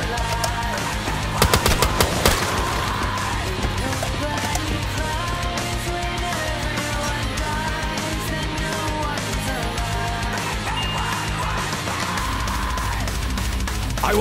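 Sustained SMG fire in Black Ops 3 Zombies, a loud, nearly unbroken stream of rapid shots layered over dense game noise and music, with a character voice occasionally speaking.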